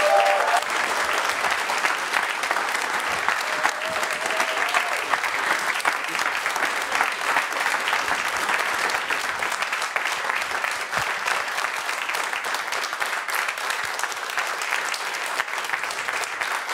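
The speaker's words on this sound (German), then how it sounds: "Einen großen Applaus für David Stockenreitner." Sustained, dense audience applause for a comedian at a stand-up show, a steady wash of many hands clapping at even loudness throughout with no break.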